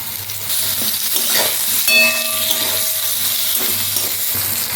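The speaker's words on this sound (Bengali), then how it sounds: "বেগুনটাকে অল্প নুন হলুদ দিয়ে আমি ভেজে নেব" Eggplant slices seasoned with salt and turmeric fry in hot oil, giving a steady, close sizzle with occasional stirring noises and no talking.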